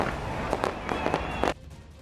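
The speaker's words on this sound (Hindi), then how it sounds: "रात के 12 बजते ही शानदार आतिशबाजी से आसमान रात के अंधेरे में जगमगा उठा" A New Year's midnight fireworks display: a quick run of five or six sharp bangs and crackles at moderate distance, closely spaced, then the sound cuts off abruptly.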